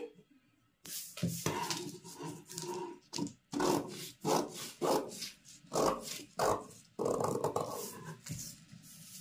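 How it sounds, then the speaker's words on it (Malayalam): Scissors slice through a blouse fabric piece in a series of distinct crunchy snips, each cut a short rasping burst separated by brief pauses, close and clear. "ഇനി നമുക്ക് ഈ പീസ് കട്ട് ചെയ്തെടുക്കാമേ"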